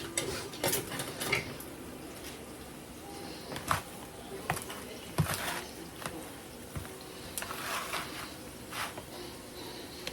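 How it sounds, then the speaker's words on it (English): Carne adovada meat stirred in a pot with minced garlic, a spoon scraping and clinking against the sides in scattered, irregular knocks over a soft background hiss, fairly quiet and close. "I'll stir that meat."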